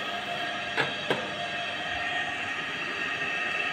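Three-phase 3 HP induction motor running at about 1480 rpm on an autotransformer-fed supply, giving a steady, even broadband hum with two brief clicks near the start and no voices.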